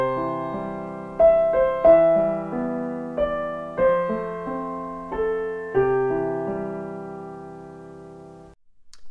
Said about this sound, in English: Instead of playing the 3 notes in the chord at the same time, you play the notes in sequence,